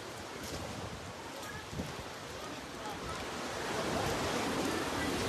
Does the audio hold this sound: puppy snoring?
no